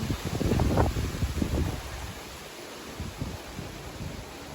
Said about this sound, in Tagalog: Kakusog sa hangin.